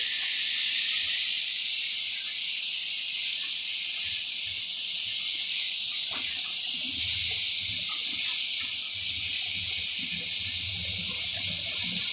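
Tomatoes and chilies hiss steadily in a hot wok, a constant bright sizzle with faint low clatter beneath, no voices.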